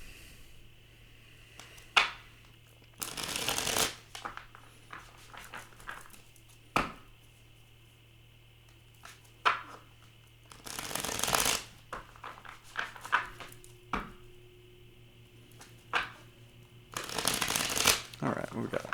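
Tarot cards are shuffled in several separate bursts of riffling, each a few seconds long and close up, with a person talking between and over them.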